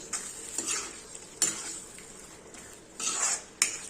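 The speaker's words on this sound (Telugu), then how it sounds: "ఈ కొత్తిమీర కూడా ఇది మా కర్రీలో కలిసేటట్టు కలుపుకోవాలి" Chopped coriander being stirred into a tomato curry in a pan, with a spoon scraping and clinking against the pan in irregular strokes over a faint sizzle, close and without talk.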